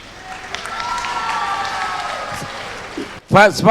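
An audience at a Tamil speech event breaks into applause, a brief wash of clapping heard behind and after the speaker's voice, which rises again loudly at the end.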